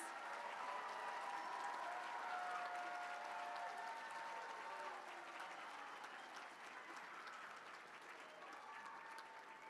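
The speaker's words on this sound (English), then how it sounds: "let's just give one more big round of applause to our elementary students." A school ceremony audience gives a round of applause for elementary students, a sustained, even wash of clapping from a large crowd, quietly recorded, with faint voices underneath and a gradual fade.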